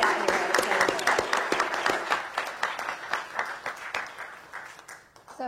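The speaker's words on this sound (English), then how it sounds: "I want you to all give yourselves a big hand of applause" An audience in a room gives itself a big round of applause at a Jacksonville Jaguars event, many hands clapping hard at first and then thinning out and fading toward the end.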